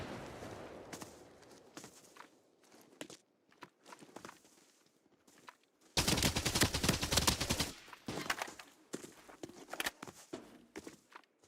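Video game gunfire from an M80 rifle: soft footsteps and scattered shots give way to a loud, sustained burst of rapid fire, then further choppy volleys that trail off.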